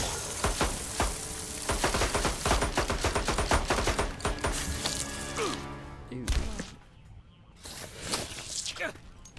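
Pistol gunfire in the Mortal Kombat video game cracks out in quick repeated shots for several seconds, loud and close, then thins out as game sounds carry on.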